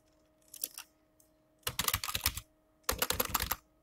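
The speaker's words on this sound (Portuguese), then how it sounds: "eu vou digitar uma frase aqui." Typing a sentence on a computer keyboard in Word: three separate bursts of quick, close key clicks, the first short, the next two longer runs of rapid keystrokes, with quiet pauses between.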